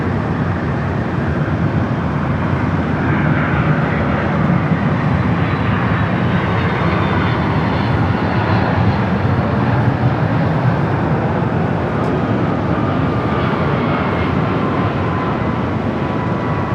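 A jet airliner at Los Angeles LAX airport gives off a loud, continuous broadband engine roar that stays steady and close throughout, with no voices.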